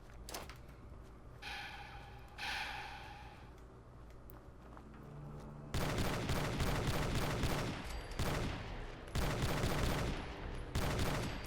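A PX4 pistol in Fallout 4 fires in rapid, loud volleys, dense bursts of shots crowding the second half after a quieter stretch of mechanical game sounds.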